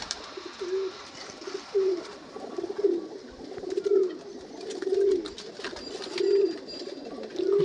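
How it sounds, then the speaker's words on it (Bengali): Madrasi flying pigeons coo at a pigeon sale, a soft repeated low cooing call that returns roughly every second, close and moderately loud, with faint rustling and other birds in the background. "এটা ফুলশিরা মাদি পায়রা আমরা।"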